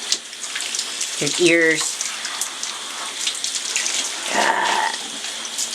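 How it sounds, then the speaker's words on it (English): Tap water runs steadily while a dog is rinsed during a bath, a soft continuous splash with brief voices talking over it. "You suck at rinsing him."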